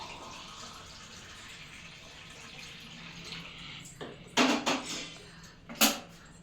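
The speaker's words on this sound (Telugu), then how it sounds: "గోరువెచ్చగా అయిన మీద ఇందులో వాటర్ పోసేసుకుంటున్నాం." Warm water poured into homemade weight-loss powder in a kitchen, a faint, steady liquid hiss followed by two brief, louder clinks of the container near the end.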